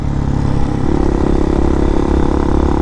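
A 2019 RPS Hawk DLX 250 motorcycle cruising on a road, its engine holding a loud, steady, buzzing drone at constant revs with wind rush, close and continuous, no voices.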